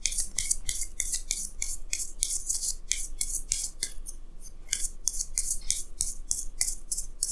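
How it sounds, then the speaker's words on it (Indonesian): Tarot cards drawn and handled in a reading, giving a fast run of crisp papery snaps and slides that repeat in bursts, close and fairly loud, with no talking. "Jadi saya akan tarik lagi 2 kartu tambahan,"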